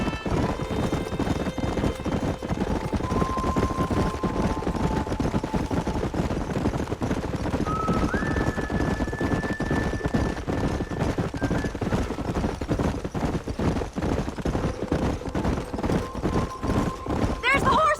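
Hoofbeats of horses galloping in the Western video game Red Dead Redemption, a steady clip-clop under game music, with occasional whinnies, while characters talk over it.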